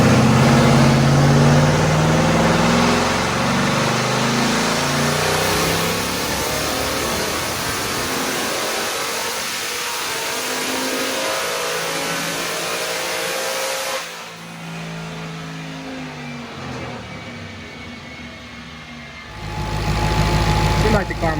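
A twin-turbo 5.0 car engine on E85 roars steadily at high revs on a dyno, then drops off sharply and winds down. It surges back up near the end.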